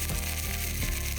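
Cauliflower searing in a hot pan gives a steady, continuous sizzle and crackle with low rumbling, close and fairly loud throughout, with no talking.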